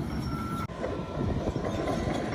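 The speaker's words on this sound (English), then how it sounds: "Got the excavator and third truck pulling out now." A truck pulls out on a farm, its steady engine rumble loud and close with a faint high tonal whine running through, a brief dip partway, no talking.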